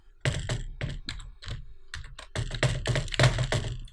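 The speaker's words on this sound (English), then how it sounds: "So I'll just type a password here" Password being typed on a computer keyboard during a MySQL Workbench installation, a brisk run of close, crisp key clicks in uneven bursts with short pauses between groups.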